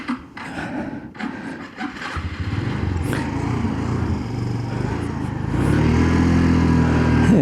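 A Suzuki SkyDrive motor scooter engine hums while riding, starting with rubbing, scraping noises and then settling into a steady, growing drone that gets louder near the end.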